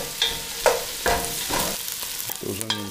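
Onions and bacon sizzle and crackle in bacon grease as a utensil stirs them through the pan, with scraping strokes and bursts of spatter close up, plus a brief tonal clatter near the end.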